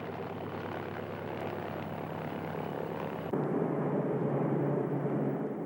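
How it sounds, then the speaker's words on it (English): A Soviet Il-2 Sturmovik ground attack aircraft drones with a steady, continuous piston-engine roar that holds an even level, then grows slightly louder and fuller partway through. "By the Battle of Stalingrad, Soviet Russia had its own ground attack fighter, the Il-2 Sturmovik."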